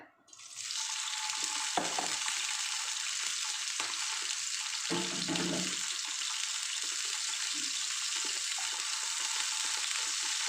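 Meatballs stir-fry in hot vegetable oil with a steady, bright sizzle that runs continuously, close and moderately loud, with occasional scraping stirs and clatter of a utensil in the pan.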